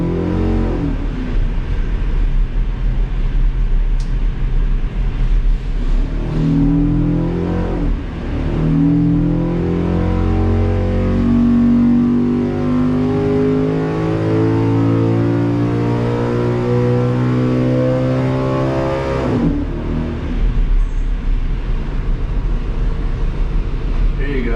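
A race engine fitted with a road race carburetor roars on a dyno, its loud, sustained tone sweeping steadily upward in pitch through a pull before dropping back and rising again.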